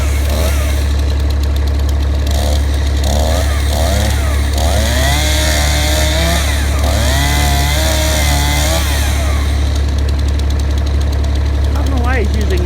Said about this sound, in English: I don't know why he's using my chainsaw.